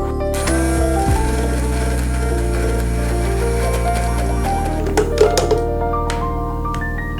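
A blender whirs steadily as it purées soy sauce, brown sugar and rice vinegar into tonkatsu sauce. The motor pitch drops in steps as it runs, and it ends with a few clattering knocks close by.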